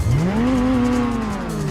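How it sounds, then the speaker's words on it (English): Mazda 787B Le Mans race car in Gran Turismo 4, its engine rising to a high, smooth wail and then easing slightly as it holds a sustained, loud, harmonic note. "It's the Mazda 787B. Listen to that engine."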